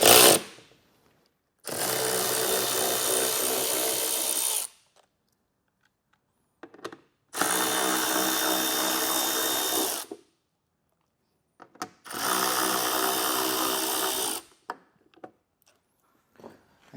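Three bursts of a power drill, each about three seconds long, separated by short quiet gaps, loosening the 10mm screws that hold a taillight on a 2024 Kia Telluride. The whine is close and steady.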